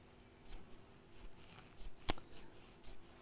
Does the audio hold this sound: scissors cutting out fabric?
yes